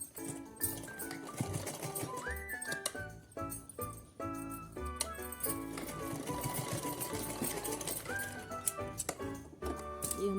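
A sewing machine stitches a small cloth turban for a Laddu Gopal doll outfit, a steady, close, rapid whirring clatter that runs in bursts with brief pauses between runs.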